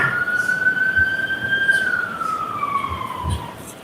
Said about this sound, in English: I just wanted the siren to go by